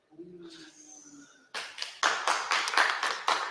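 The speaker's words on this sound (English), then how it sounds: "Big rounds of applause here from everyone." A small group claps at the National Robotarium after a robot run, a burst of uneven handclaps starting abruptly after a faint voice and a tonal hum.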